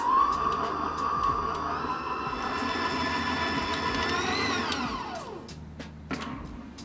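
Electric mixer whirring steadily as flour is blended into a batter, a sustained motor drone with a high whine that winds down after about five seconds, then a few light clatters.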